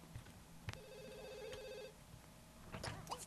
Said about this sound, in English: Oh, and answer the damn phone.